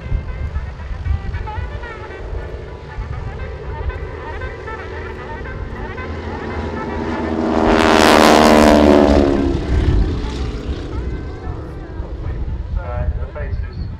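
Breitling Wingwalkers biplanes fly in stack formation at the RAF Cosford Airshow, their propeller engines droning steadily and swelling into a loud pass overhead midway, then fading, while a commentator talks throughout.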